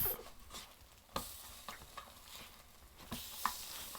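French toast cooking in a pan gives a quiet, faint sizzle broken by a few sharp scrapes and taps of a utensil against the pan, spaced irregularly, with no one speaking.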